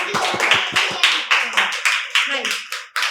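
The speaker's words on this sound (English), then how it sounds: "So clap for Arab" An audience in a spoken English flashcards class claps together in fast, rhythmic bursts of sharp, close hand claps that tail off toward the end.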